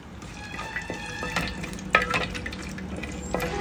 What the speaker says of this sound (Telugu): అలానే కరివేపాకు వేస్తున్నాను. మనకి కరివేపాకు మంచిగా వేయించుకుందాము.